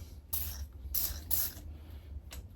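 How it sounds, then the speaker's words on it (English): Houseplants misted with a neem oil spray bottle: three quick hissing bursts in close succession, then a fourth shorter spritz after a pause, close by against a quiet room. "I can actually spray my plants right now."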